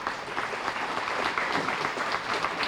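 Crowd applause at a rodeo reading challenge ceremony during Fiesta Days, brisk, even clapping from an audience, moderately loud and continuous throughout.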